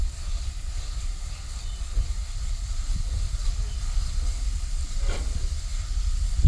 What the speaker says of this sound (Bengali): এখন ডালটা মশলার সাথে খুব ভালো করে কষিয়ে নিব